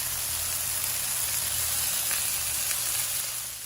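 Smashburgers with onions fry on a hot griddle, giving a loud, steady, close sizzle that hisses on without a break.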